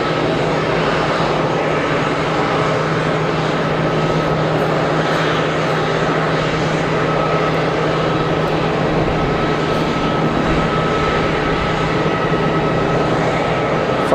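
A Pilatus PC-12 turboprop lining up on the runway at Geneva Airport holds a loud, steady engine drone with a constant tonal hum, unbroken throughout.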